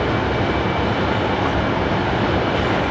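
A train rumbles steadily at Bristol Temple Meads station, a loud, continuous wash of wheel and engine noise filling the platform with no clear breaks.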